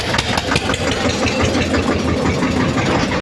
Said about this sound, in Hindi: शोर हो रहा है क्योंकि पीछे से ट्रैक्टर आ रहा है